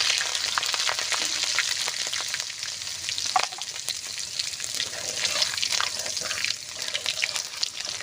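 Green chilies and black cumin seeds are dropped into hot oil for a tempering in a village-style Bengali kitchen, producing a loud, steady crackling sizzle with scattered pops throughout.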